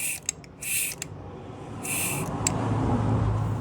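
Hand vacuum pump worked by hand to test a Mini Cooper S N14/N18 wastegate: a few short squeaky hissing strokes up close, spaced apart, followed by low rumbling background noise.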